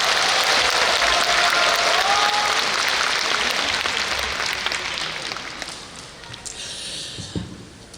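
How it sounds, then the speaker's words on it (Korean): Broad applause from a large congregation at a Catholic Charismatic Renewal national retreat, welcoming a priest to the stage, loud and steady at first, then thinning and fading toward the end with a few last claps. "우리 박수로 좀 맞이해 주시기 바랍니다."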